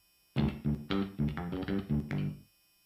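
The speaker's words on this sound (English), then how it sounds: "what you're hearing here is the sound of the bass, but through a convolution plugin" A plucked Scarbee MM bass sample in Kontakt 6 plays a line of about eight notes, rounded and boomy, through a convolution reverb plugin whose roomy tail rings out after the last note.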